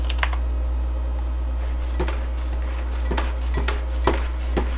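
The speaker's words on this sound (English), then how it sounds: "that's the sound of me just going nuts with the mouse" A computer mouse being moved and clicked rapidly during a LightWave session: a run of sharp, close plastic clicks at irregular intervals over a steady low hum, with no talk.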